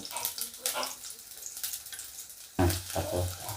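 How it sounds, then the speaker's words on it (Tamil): Ginger and garlic fry in hot oil with a continuous, bright hissing sizzle that rises and falls, briefly swelling louder near the end as a voice speaks quietly. "இஞ்சி பூண்டை நல்லா அப்படி வணக்கிக்குங்க."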